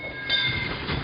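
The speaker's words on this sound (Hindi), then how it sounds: "एक दूसरी ट्रेन अपना हॉर्न बजाती हुई जोर से बाजू वाली पटरी से गुजरी" A passing train on the neighbouring track, steady rail rumble with high sustained tonal lines from its horn, loud and close for about a second with no talk.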